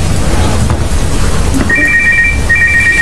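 A mobile phone ringtone enters partway through as a repeated electronic two-tone trill over loud background rumble in a studio setting.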